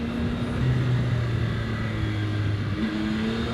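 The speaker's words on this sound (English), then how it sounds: "So this engine is a really usable engine." A Yamaha R9 sport motorcycle is ridden on a race track, its engine droning steadily with a rising tone as it pulls through the gears, heard close and continuous with no talking.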